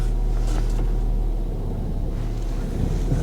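A Ford Fiesta ST engine running smoothly with no misfire, heard as a low steady rumble throughout with some wind noise over the microphone and no voices.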